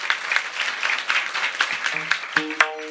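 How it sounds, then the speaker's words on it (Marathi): A kirtan crowd in Pune applauds the mridangam accompanist with a burst of clapping that thins into scattered claps, while a harmonium-like sustained tone and a voice briefly come in near the end. "यांच्यासाठी एकदा जोरदार टाळ्या होऊ द्या."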